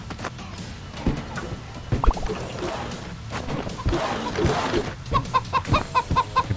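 Chickens in the video game Moving Out, with scattered thumps and game noise before a rapid, evenly spaced run of clucks near the end, moderately loud.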